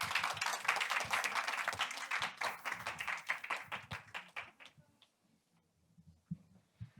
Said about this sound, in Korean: 네, 모두 큰 박수 부탁드립니다.